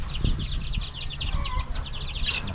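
Chickens clucking and chirping in a steady chorus over low background rumble, with scattered higher calls throughout.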